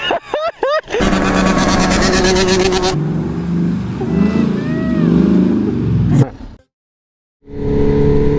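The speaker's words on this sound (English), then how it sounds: "oh, I love that exhaust" A motorcycle engine revs loudly up close, its exhaust roaring and droning, with voices talking over it before a brief cutoff and restart.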